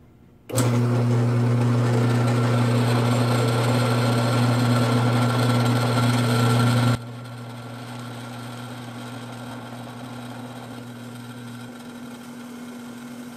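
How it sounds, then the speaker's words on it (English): A power drill bores a tap-size hole in steel for a custom enclosure, running with a loud steady motor whine, then dropping to a quieter lower hum for the rest of the time. "That was the tap size drill."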